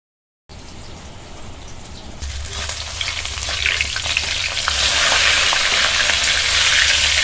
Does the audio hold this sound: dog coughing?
no